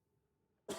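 A single sharp cough from a person close by breaks a near-silent stretch near the end, loud and abrupt.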